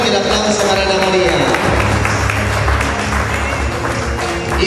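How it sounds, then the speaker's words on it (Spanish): Applause from a crowd at a senior citizens' parade greets a participant, a moderate patter of clapping under and after an announcer's amplified voice, with a low musical hum underneath. "Fuerte el aplauso para Ana María."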